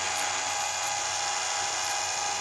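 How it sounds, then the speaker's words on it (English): A chainsaw chain sharpener's grinding wheel, running slightly off center, gives a steady, high-pitched continuous whine and hiss with no break and no voices. "If you notice how it still grinds after I've turned it on"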